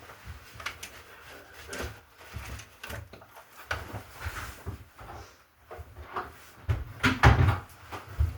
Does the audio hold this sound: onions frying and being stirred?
no